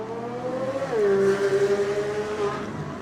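Race cars at New Smyrna accelerating on the green flag, one engine note climbing then holding a loud, steady drone with others blended behind.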